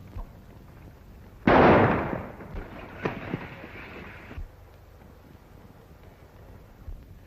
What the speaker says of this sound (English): Shoot the gun out of his hand, Marshal.